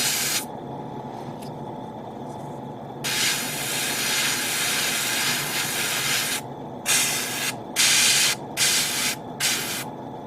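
An airbrush sprays red paint onto a Gundam plastic model kit with a steady close hiss, in a long burst followed by several short on-off bursts, all over a constant low compressor hum.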